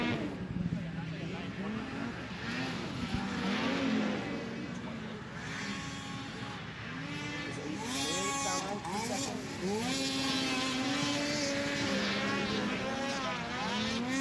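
Race cars lap a Steeplechase track on the last lap before the white flag, a continuous drone of engines rising and falling in pitch as they pass, heard under an announcer's commentary.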